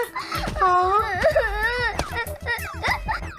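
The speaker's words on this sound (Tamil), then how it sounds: "இந்த குழந்தை ஏன் அழுதுகிட்டு இருக்கு" A young child crying in a Tamil TV serial, giving wavering, wailing cries close to the microphone, broken by short pauses.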